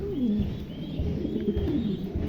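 Several pigeons coo continuously, low rolling and warbling calls overlapping one another, close by and moderately loud.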